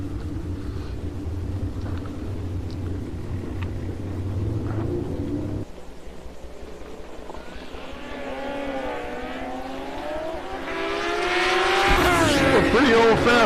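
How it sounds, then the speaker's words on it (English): Suzuki Hayabusa drag-racing motorcycles at a raceway, engines idling low, then revving and screaming louder toward the end as a commentator talks over them. "A couple of fast Hayabusas."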